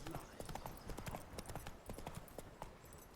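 Hooves of Roach, Geralt's horse in The Witcher 3, clip-clopping at a brisk walking rhythm, faint and close, with quiet game ambience around the steps.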